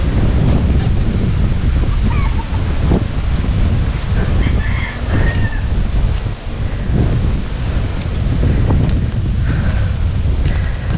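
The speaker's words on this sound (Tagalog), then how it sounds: "Ang lakas ng hangin." Strong wind buffets the microphone in gusty, continuous rumbling blasts, with faint voices occasionally audible underneath.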